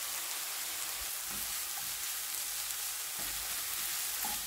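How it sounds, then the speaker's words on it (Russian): Onion and carrot frying in heated vegetable oil, a steady broadband sizzle with soft crackles and occasional faint stirring knocks, alone without voices. "Обжариваем лук до золотистого цвета, а рядом морковь для мягкости."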